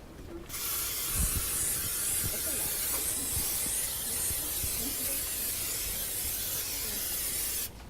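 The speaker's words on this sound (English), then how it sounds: "make sure you spray it over the sink" A spray bottle is sprayed over a kitchen sink while chicken strips are prepared, giving one long, steady, close hiss that lasts about seven seconds and stops abruptly, with no talk.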